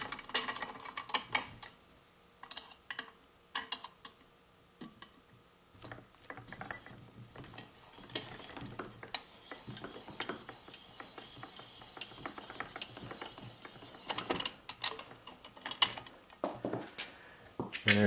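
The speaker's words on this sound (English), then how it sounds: "These are Allen head bolts, so you're going to need an Allen head wrench to do these. Just back those out till they're loose." Allen wrench loosening Allen head muffler bolts on a Jiffy 2-cycle engine, with close, dry ratcheting clicks and small metallic taps in irregular bursts over a quiet background and no speech.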